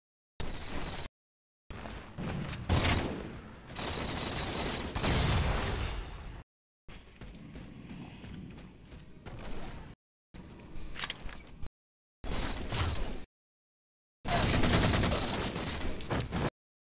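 Bursts of gunfire from a weapon in the video game Halo 4, coming in several loud separate volleys broken by short silences, with no talk over them.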